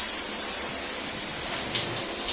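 Water pours steadily in a continuous hiss, like a shower rinsing kaolin clay out of twisted hair, loud and close with no voices.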